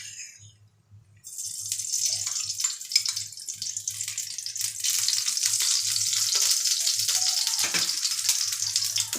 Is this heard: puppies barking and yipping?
no